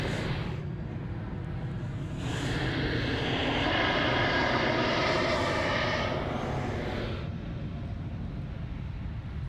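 Jetstar airliner taxiing and readying for departure at Sydney Airport, a broad steady engine roar that swells in the middle and holds loud and continuous, heard from a distance with no talk.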